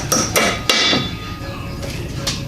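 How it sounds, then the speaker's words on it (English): Three sharp smacks in quick succession as clips are knocked into place on a Chevy Luv pickup, loud and close, followed by a couple of fainter taps. "we'll give it a couple smacks to help loosen it"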